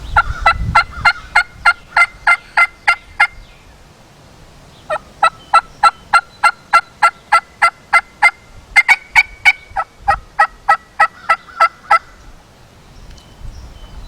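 A turkey mouth diaphragm call blown by a person imitates wild turkey yelps, three long runs of rapid, evenly spaced loud notes with brief pauses between series.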